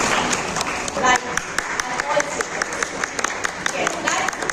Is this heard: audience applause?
yes